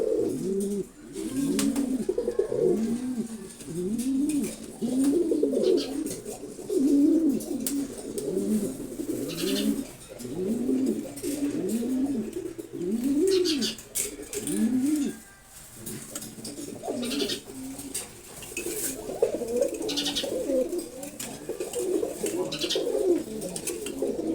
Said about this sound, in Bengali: রেড চেকাট কবুতর এখানে রাখতেছে।